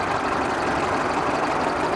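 Great big vintage Leyland truck engine running steadily, a continuous loud low rumble with a busy idling texture and no voices.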